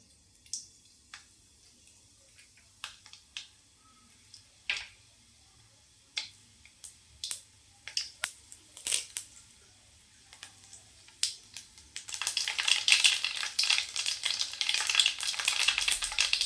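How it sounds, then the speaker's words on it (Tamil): Mustard seeds and urad dal frying in oil in a kadai: scattered sharp pops and crackles at first, growing denser, then a loud continuous sizzle near the end, close up with no voices. "கடாய் வச்சிட்டேன் எண்ணெய் சேர்த்துக்கலாம் கடுகு உளுத்தம்பருப்பு சேர்த்துக்கலாம்"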